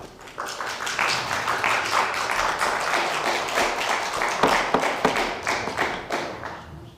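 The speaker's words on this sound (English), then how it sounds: "We don't have clapping, I'm sorry." An audience claps at a county Board of Commissioners regular meeting: steady, close applause with many overlapping hand claps filling the room for about seven seconds.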